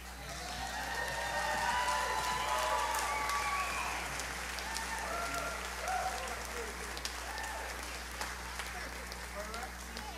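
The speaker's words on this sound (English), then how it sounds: "Give him another great round of applause" Concert audience applauding at a blues show, a dense steady roar of clapping with scattered cheers that stays loud throughout, with a voice calling out over it at times.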